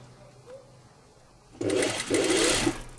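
A sewing machine stitches a small holding seam across a pleat on a tunic, a close, steady run of rapid mechanical whirring for about a second and a half after a quiet pause.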